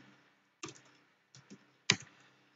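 Short bursts of typing on a computer keyboard while entering a command in an Ubuntu terminal, three separate clusters of crisp keystrokes with quiet gaps between them.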